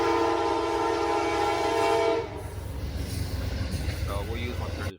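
A train horn from a train simulator blares loudly in a sustained, steady chord for about two seconds, then cuts off, leaving the low rumble of the moving train.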